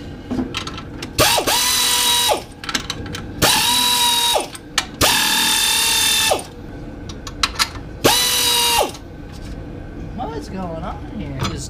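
Ratchet or power tool loosening bolts on the old power steering pump of a 1978 Ford Bronco, four loud whirring bursts of a second or two each with pauses between.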